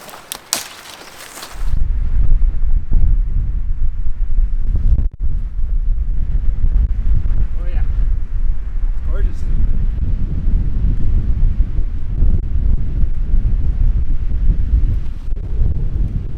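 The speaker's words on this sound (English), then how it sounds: "Woo, that wind is crisp." Cold, strong wind on a hilltop buffets the microphone in a loud, continuous roar after a short quieter opening, with gusts rising and falling and no voices.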